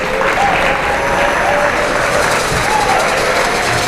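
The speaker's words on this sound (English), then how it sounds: "A round of applause for the PE staff" Loud, dense audience applause fills a school gym at a family talk event, continuous crowd clapping throughout with a little cheering mixed in.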